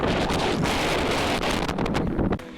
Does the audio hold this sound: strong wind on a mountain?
yes